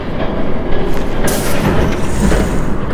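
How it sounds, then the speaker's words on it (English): A train rolls in during a Batman video game, a steady, loud rumble of rail wheels and carriages with clickety-clack and brief hissing bursts, continuous and close throughout. "There's a train coming."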